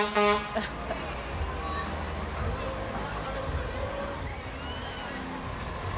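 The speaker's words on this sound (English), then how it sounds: "I'm getting distracted by the horn. That is a loud horn." Truck horn blasts at a small-town parade, a couple of loud toots near the start over rumbling truck engines, with someone talking throughout.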